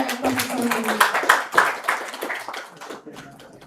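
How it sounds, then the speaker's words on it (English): Applause from a lecture-hall audience for a guest professor, a group clapping with distinct sharp claps that thin out and fade toward the end. "Applause for Professor Hajo and Professor Reijers."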